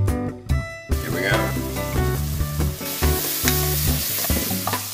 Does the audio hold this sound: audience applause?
no